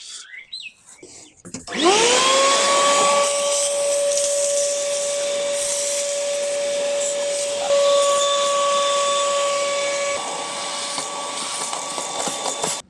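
A vacuum cleaner whirs up to speed and runs steadily with a loud, airy whine and a high tonal hum while cleaning rat droppings from the engine bay of a Ford FG Falcon XR6.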